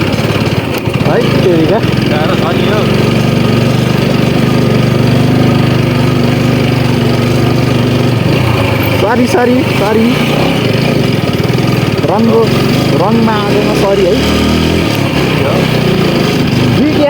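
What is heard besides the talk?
powerful motorbike engine while riding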